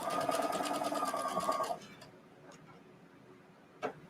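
Sewing machine quilting fabric runs in a fast, steady stitching rattle for under two seconds, then stops, leaving near silence with a single soft click near the end.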